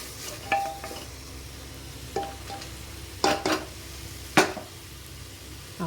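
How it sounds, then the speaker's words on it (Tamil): Onions with coriander leaves and mint sauté in a pan for veg biryani, a low sizzle broken by several sharp clinks and scrapes of a spoon stirring against the metal. "ஒரு 2 நிமிஷம் வதக்கிக்கலாம்"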